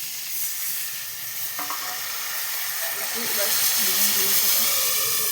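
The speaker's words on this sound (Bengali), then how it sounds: "বেগুনগুলোকে ভেজে নেব" Eggplant slices frying in oil in a pan, a steady bright sizzle and hiss with faint clinks of utensils, close and continuous, swelling slightly toward the end.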